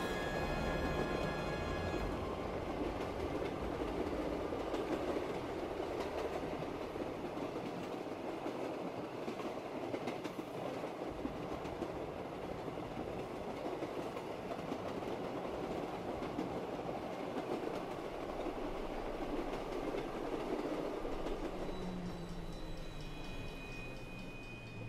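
Train riding on rails in Call of Duty: Black Ops III Zombies, a continuous rumbling roll with rapid clattering wheel texture that stays loud and steady, with brief tonal squeals at the start and end.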